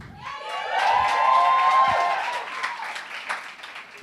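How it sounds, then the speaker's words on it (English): Audience cheering and applause at a question-and-answer session, a swelling crowd whoop with high voices rising over dense clapping, peaking early then easing into continued clapping. "I think Leonie deserves a slightly bigger cheer."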